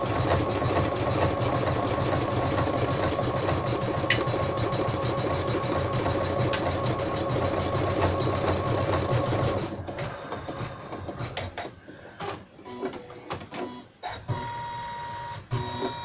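An embroidery machine lays down a blanket stitch for a hat, humming and clattering in a fast steady rhythm for about ten seconds. It then breaks into sparser, irregular clicks and knocks.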